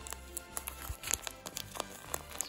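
Plastic and paper packaging of an advent calendar crinkles and tears as it is opened, with scattered close crackles and rustles but no voices.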